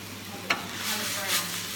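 Ground beef for tacos sizzles softly in a pan, with a brief stirring scrape and a faint steady crackle under the frying.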